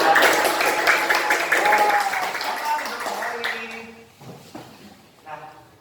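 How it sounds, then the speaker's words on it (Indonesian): A class of children applauds, their clapping loud and crowded at first, then thinning out and fading to scattered claps, with voices and a few sustained tones underneath. "Mari tepuk tangan."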